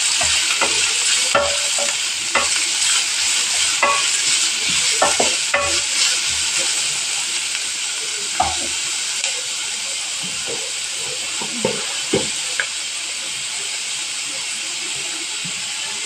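Thinly sliced onions are stirred in a hot pan, a constant hissing sizzle broken by uneven scrapes and clinks of the spatula, busier at first and sparser later, with no speech.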